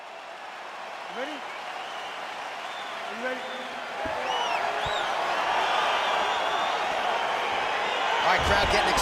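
A virtual arena crowd in EA Sports UFC 4 murmurs and then swells louder as a light heavyweight fight begins, with scattered whoops over a steady roar and a brief spoken line.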